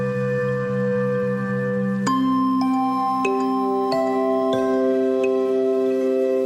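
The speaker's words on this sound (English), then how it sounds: "That is the sound of a new instrument that I created, which is called, or I called it Magic Forest." Magic Forest, a custom multi-layer sampled virtual instrument, plays bright chiming, bell-like notes over a sustained soft pad, the plucked tones entering one after another at an even pace and ringing on together.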